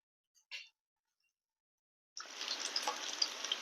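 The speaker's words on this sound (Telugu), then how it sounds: "ఉల్లిపాయ ముక్కలు పచ్చిమిరపకాయ ముక్కలు రెండు ఫ్రై అయిపోయాయండి" Onion and green chilli pieces fry in a pan. After a short faint knock and a pause, a close, bright sizzle starts abruptly and runs steadily to the end.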